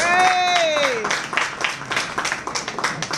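Applause from a concert audience greeting the singer on a 2018 winter tour, scattered claps rising after an announcer's voice and continuing moderately loud.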